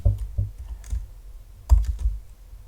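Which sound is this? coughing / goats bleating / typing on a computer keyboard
typing on a computer keyboard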